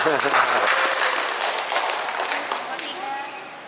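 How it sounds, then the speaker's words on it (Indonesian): Student participants at a church youth (SIDI) discussion group break into applause for everyone, a dense burst of clapping that starts loud and gradually thins and fades over a few seconds. "tepuk tangan untuk semua"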